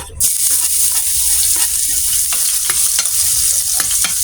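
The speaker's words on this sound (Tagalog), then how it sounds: "So igigisa na natin yung ating bawang." Garlic sautéing in a hot pan gives off a loud, steady, close sizzle that lasts throughout, with light spatula taps and scrapes scattered over it and no voices.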